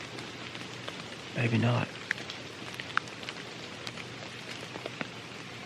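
Steady rain patters down in spring woods during a downpour, a constant close hiss with scattered drips, and a brief voice cuts in near the start.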